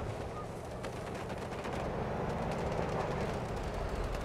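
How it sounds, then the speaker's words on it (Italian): Gunfire in the Delta Force video game during a tank battle, dense bursts of shots crackling over a constant rumbling battlefield din, fairly loud with no clear talk. "Sparo da qui."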